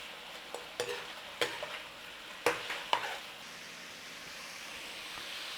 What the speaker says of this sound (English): We turn it down and let the pork render out that fat.